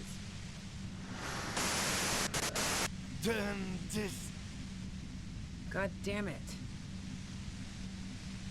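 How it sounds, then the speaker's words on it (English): Static-like white noise from the detective game Disco Elysium hisses in loud bursts around two and a half seconds in, with a steady low hum beneath and a voice speaking briefly over it. "If you've got something really important to say, you can do it through the white noise."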